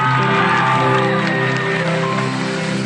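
A concert crowd at PIMF 2013 cheers and applauds, a dense, continuous roar of many voices and hands with steady tones running beneath, loud and unbroken throughout.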